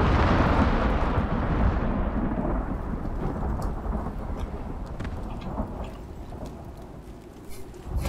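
Video game thunderstorm with a heavy rumbling thunder roll that slowly fades, steady rain hissing underneath and a few faint crackles, no voices.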